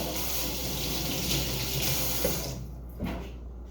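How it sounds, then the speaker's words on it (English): Steady rush of running tap water, with hands moving under the stream, cutting off near the end. "I'm gonna rinse my hand off before I touch my phone again"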